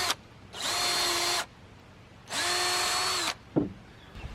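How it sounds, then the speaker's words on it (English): A power drill boring a pilot hole into wood for a playhouse build: two loud, sustained whirring bursts of about a second each, separated by a pause, with a short clack after the second. "so I can see where to do a pre-drill hole"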